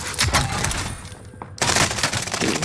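Shotgun and other gunfire in a multiplayer shooter video game, rapid loud bursts, a brief lull, then a dense volley of shots close up.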